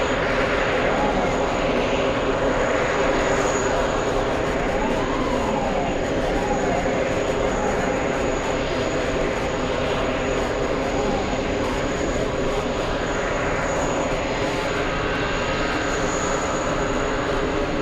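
A JetBlue airliner passes as a steady, broad jet engine roar with slowly sweeping tones, heard from a distance under light talk and crowd noise.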